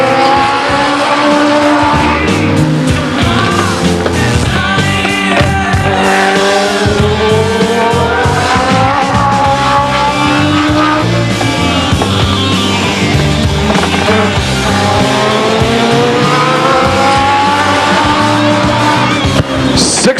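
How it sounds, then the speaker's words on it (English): Legends race cars roar around Stockton 99 Speedway in a 2003 race, a loud, steady blend of engines whose pitch rises and falls as the cars lap the oval, with occasional tire noise. "On the track from Lodi in the number 1 car, Donnie Stone."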